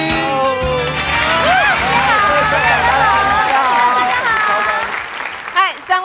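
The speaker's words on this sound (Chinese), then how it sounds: "掌声欢迎。" Studio audience applause welcoming guests on a Taiwanese TV variety show, a steady, loud clapping wash under bright, lively music that thins out near the end.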